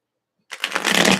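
A deck of tarot cards is shuffled up close in a single quick burst of riffling and sliding that builds and then cuts off, with no voices.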